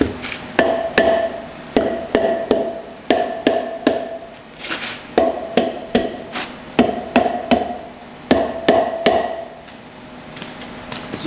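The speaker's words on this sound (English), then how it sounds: "And now I'm going to tamper it with the hammer." A hammer taps the sides of a sample mold in quick bursts of sharp, ringing knocks, pausing briefly between groups, loud and close with no speech.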